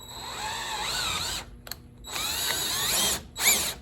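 A power drill whirs in bursts while working on a table saw fence adapter for a router table: a long steady spin, a short pause, then another run with rising pitch as it bites and backs out.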